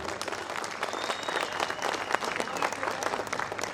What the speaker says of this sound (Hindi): एक मर्तबा तालियां बजा दीजिए ज़ुबैर के लिए।